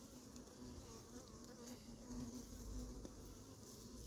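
Bees drone in a dense, continuous buzz around an apiary hive, with a hornet hunting among them; the hum stays steady and close with slight swells and no speech.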